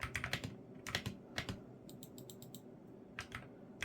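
Typing on an AKKO MonsGeek FUN60 PRO mechanical keyboard, close and crisp, with quick clusters of keystrokes broken by short pauses and a rapid run of lighter taps in the middle.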